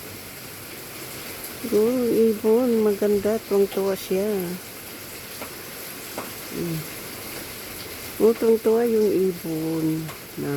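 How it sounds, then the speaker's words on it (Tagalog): Steady rain falls outdoors in San Mateo, California, a soft continuous hiss under someone talking nearby in two bursts. "First time na umuulan dito ngayon"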